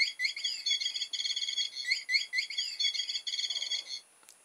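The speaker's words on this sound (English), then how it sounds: "what I'm looking at here is one of these annoying singing birds" A battery-powered toy singing bird chirps in quick, repeated bursts of bright electronic birdsong for about four seconds, loud and close with nothing else behind it, then stops with a small click.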